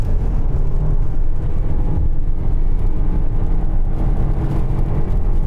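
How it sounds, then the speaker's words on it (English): Car engine with a CVT automatic gearbox droning at a steady, unchanging pitch under full throttle, a continuous loud low rumble heard from inside the cabin with no speech. "That noise is the engine just going because this car has a CVT"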